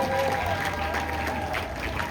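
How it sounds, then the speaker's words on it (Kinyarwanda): Audience applause at a gathering, a steady wash of clapping throughout, fairly loud and continuous with a faint crowd murmur underneath. "Amashyi menshi cyane."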